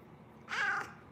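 A pet cat, grey and resembling a Russian Blue, gives one short meow of under half a second, close to the microphone and alone against quiet room noise; no purring is evident.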